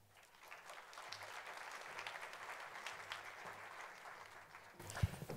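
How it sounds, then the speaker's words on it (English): Audience applause at a library literary festival inaugural event in Boulder, a fairly faint, even patter of many hands from a seated crowd, steady across the clip with a brief sharper knock near the end. "they deserve this big round of applause"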